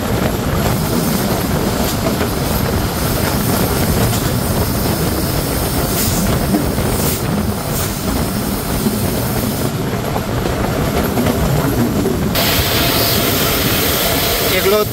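Titumir Express, a Bangladeshi passenger train, pulls out of Panchbibi railway station with a steady, loud rumble of wheels and carriages that runs for the whole stretch, rising in hiss and clatter toward the end.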